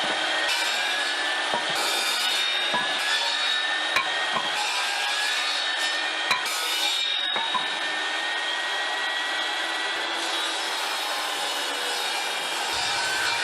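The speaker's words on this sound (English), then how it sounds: "I'll set the saw to cut 6 pieces for the clamps." A portable table saw cuts small wood pieces for the clamps of a classic-style stitching pony, its steady whining motor and blade running loudly and continuously with brief dips between cuts.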